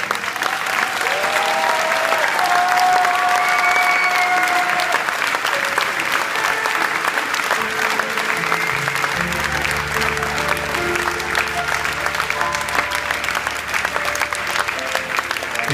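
An audience at a concert claps steadily for the pianist and keyboardist, a sustained wash of applause that carries on under a music track with low bass and synth notes coming in partway through.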